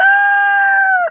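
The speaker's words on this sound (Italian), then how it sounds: "Oh, due galli. Allora abbiamo il gallo Valdarno e il gallo Bantam." Valdarno and Bantam roosters give one loud, sustained crow of about a second with a clear harmonic call that drops in pitch at the end, heard close and without talk.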